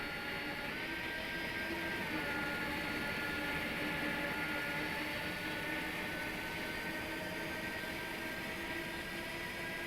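Airbus A300 jet engines at low thrust during taxi in a flight simulator, a steady droning whine with a constant tonal hum throughout, moderately quiet and unbroken, with no talking.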